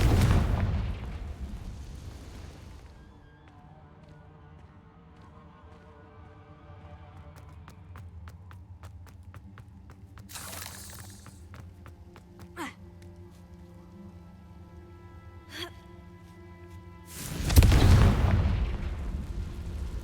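Confringo blasting spell explosions from the Hogwarts Legacy game: a booming blast at the start, a long ringing tail, a few sharp bright cracks midway, then another loud burst near the end.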